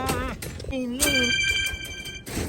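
A phone ringtone melody plays loudly over singing voices, its electronic tones overlapping the vocals briefly.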